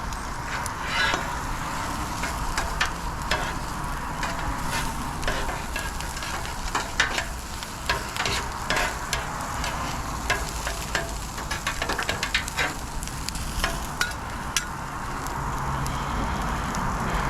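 Hash browns and cheese frying on a Blackstone griddle, a steady sizzle with scattered scraping and stirring clatters from a spatula, close and moderately loud.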